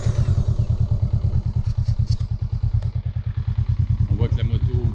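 A Honda Rebel 500 motorcycle engine idles close by while warming up, with a steady, rapid low thump, its rhythm barely wavering throughout.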